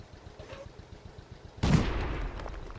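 Artillery fire in World of Tanks: a sudden heavy boom lands partway through, followed by a rumbling tail, over a quieter steady engine drone before it.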